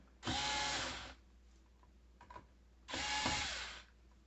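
A power drill tightens a fitting in two short bursts of close whirring, each about a second long, separated by a brief pause with light handling clicks.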